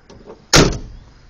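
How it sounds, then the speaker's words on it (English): A Chevrolet Camaro's door shuts once with a crisp, solid thump, loud and close, after a faint rattle of the latch, then quiet. "door shut nice and crisp"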